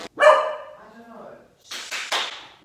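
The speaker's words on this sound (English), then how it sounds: "Oh my word, my dog." A pet dog barks indoors, one drawn-out bark followed by a short series of sharper barks, fairly close and clear, with no other sound between them.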